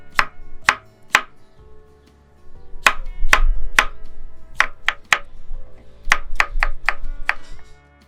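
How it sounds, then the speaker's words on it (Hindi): A knife chops cucumbers kachumber style on a board, giving crisp, sharp knocks in irregular bursts with some quick rapid runs. The chopping is close and loud, and no one talks. "इनको भी ऐसे ही कचूमर स्टाइल में काटना है।"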